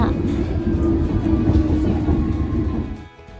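A London Underground train rumbles steadily nearby, a continuous low rolling roar with faint clatter that eases off toward the end.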